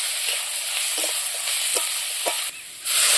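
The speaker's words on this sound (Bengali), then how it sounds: "ভালো করে পেঁয়াজ আর এই মশলাগুলো ভাজি নেব" Steady sizzling of onions and spices, including Kashmiri chilli powder, frying in a pan, with a few soft scrapes of a spoon stirring; the hiss swells louder near the end.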